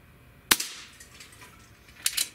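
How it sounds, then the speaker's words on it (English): A Benjamin Kratos PCP air rifle fires at full power, giving a crisp, sharp crack, then a short cluster of quieter snaps and clicks about a second and a half later, over a low background hiss. "We're going to shoot this obviously at full power, and we're going to take five shots"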